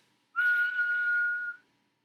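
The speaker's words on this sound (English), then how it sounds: "Everybody whistle for me." A single sustained whistle held steady for just over a second, loud and clear with no talk around it, given in response to a call for everyone to whistle during a French horn lesson.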